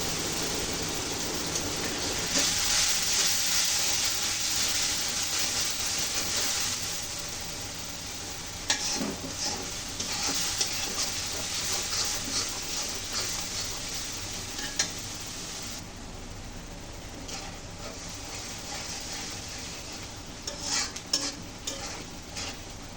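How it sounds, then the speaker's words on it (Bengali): Spice paste cooks down in a pan with a splash of water while duck curry is being prepared, a continuous soft sizzle broken by scraping stirs and occasional clinks of a utensil against the pan. "সামান্য একটু পানি দিয়ে ভালোভাবে মশলাটাকে কষিয়ে নিব।"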